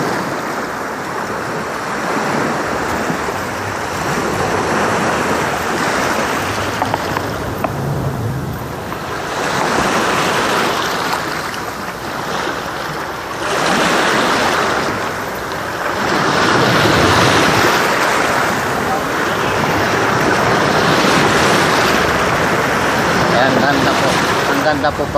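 Steady roar of ocean surf washing onto a beach at Lobo, Batangas, swelling and receding in broad waves, with wind buffeting the microphone throughout.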